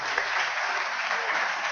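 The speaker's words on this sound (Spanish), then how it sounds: "Un fuerte aplauso para nuestra hermana Gloria por ese trabajo" An audience at a panel on Afro-descendant representation gives a brief, steady round of applause, a continuous wash of clapping heard alone at moderate level.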